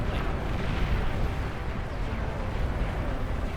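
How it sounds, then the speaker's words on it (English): Nuclear missiles launch and detonate on both sides of a huge map in a real-time strategy video game, heard as a continuous deep, roaring rumble with no distinct separate blasts. "Nukes firing from either side."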